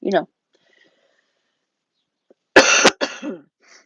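One sharp, close cough breaks a quiet stretch, followed by a short bit of muffled vocal sound.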